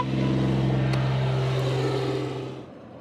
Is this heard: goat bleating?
no